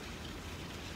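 Rain falling outdoors as a faint, steady hiss of drops, continuous with no voices.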